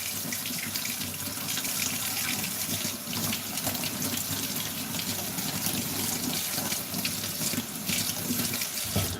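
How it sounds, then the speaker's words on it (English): Hot water runs from a kitchen tap over a utensil in the sink, a steady loud splashing rush with no pauses and no voices. "I just run this in hot water like this."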